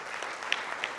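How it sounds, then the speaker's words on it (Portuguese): Applause from a seminar audience of lawyers and debaters, a short steady patter of many hands at moderate level, with no voices over it. "Merece uma salva de palmas"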